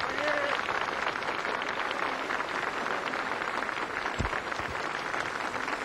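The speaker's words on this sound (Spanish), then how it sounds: "aplausos de las miles de personas que rodean la plaza" Steady, dense applause from thousands of people in an outdoor plaza in Durazno, a continuous wash of clapping with some voices mixed in.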